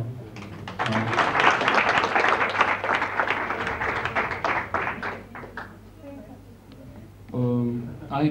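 Applause from a workshop audience at a hypnosis lecture: a dense burst of many hands clapping that swells at once, holds for several seconds and then thins out, followed by a voice speaking near the microphone.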